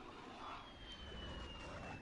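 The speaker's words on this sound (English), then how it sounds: "Friendly chopper gunner on Overwatch." A friendly chopper gunner helicopter hovers overhead in a first-person shooter video game, producing a continuous, even roar of rotor and engine noise with a faint steady whine, loud and unbroken throughout.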